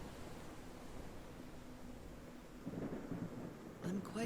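Thunder rumbles through a thunderstorm with steady rain hiss, the low rolling growing heavier toward the end with a sharper crack near the close.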